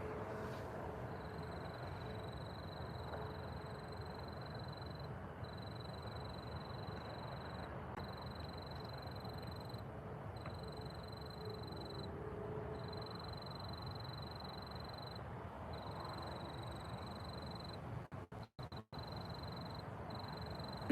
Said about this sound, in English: nice, peaceful crickets right here